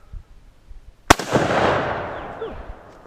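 An AK47 rifle fires one mil-spec 7.62 NATO round outdoors, a single loud close blast with a long rolling echo trailing off over a few seconds.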